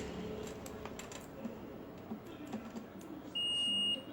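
A digital multimeter in diode-test mode gives a single steady electronic beep, fairly clear, near the end after quiet handling noise.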